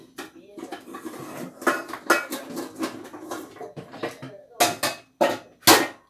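Meat is moved from one pan into another pot in a home kitchen, giving irregular metallic clanks and scraping knocks of cookware and utensils, growing sharper and louder toward the end, with a person speaking between them.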